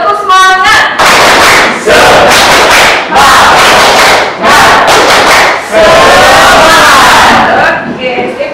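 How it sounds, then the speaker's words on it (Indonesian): A classroom of students performs a loud, spirited clapping cheer, bursts of rhythmic claps and shouted chanting in several close, energetic phrases separated by brief pauses. "Oke, tepuk semangat."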